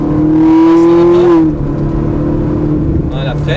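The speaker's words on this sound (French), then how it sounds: "Allez, tu peux réaccélérer, Pierre." Ferrari 458 Italia on a race circuit, engine note rising sharply in a loud close acceleration before easing off, with an instructor's voice speaking over it.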